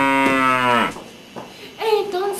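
A farm cow gives a loud, close moo that slides downward, then a shorter, softer second call follows after a brief pause, with no voices.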